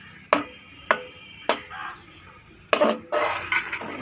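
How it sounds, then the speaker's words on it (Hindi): A spoon stirs semolina in a pot over low heat, with three sharp knocks against the pot at even intervals followed by louder scraping and clattering. "थोड़ी थोड़ी करके सूजी डालते जाएंगे और चम्मच चलाते जाएंगे"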